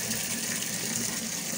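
Tap water pours steadily from a faucet at a house in Cebu Province, Philippines, a continuous hissing gush at moderate level with no talking.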